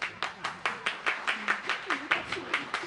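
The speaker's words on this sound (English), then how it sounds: "Applause." Studio audience on a radio show claps in a rhythmic series of about a dozen distinct bursts, fairly close and moderate in volume, with faint voices underneath.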